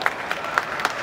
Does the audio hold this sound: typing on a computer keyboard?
no